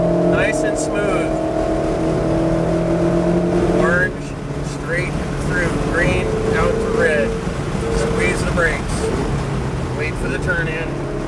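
A Ferrari 488 drives at full throttle up a hill at Pacific Raceways in Kent, Washington, its engine droning steadily and revving through gear changes as an instructor talks over it.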